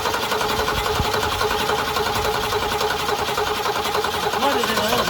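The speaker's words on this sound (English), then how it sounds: "So let's put some gas directly down it and see if it starts." A 1966 Ford Mustang engine with a carburetor fault, fuel poured directly in, runs with a steady mechanical chatter and rough idle, loud and continuous, with a brief low thump near the start.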